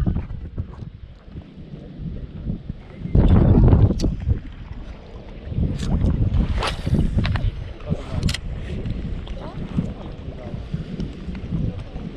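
Wind blows across the mic while someone fishes for mullet on perch gear, giving a low rumbling buffet that swells hard for a moment partway through. Scattered knocks and small handling noises sit under the gusts.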